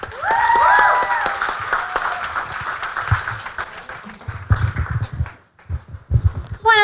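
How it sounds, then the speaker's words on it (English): Audience applause welcoming someone speaker onto the stage at a PechaKucha Night event in Ubud, a dense crowd clapping that fades toward the end, followed by a few louder, closer thumps. "So please give a warm applause to Cristina."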